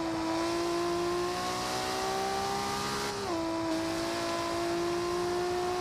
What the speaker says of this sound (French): Ah, il y a un petit bug de son.